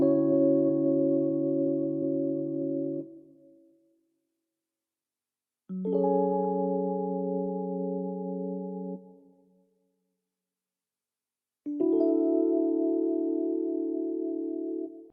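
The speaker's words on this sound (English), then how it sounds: "So the next instrument that I'm using, it's just this electric piano." Three sustained electric piano chords, each held for about three seconds and separated by short pauses, warm and smooth with no other sounds.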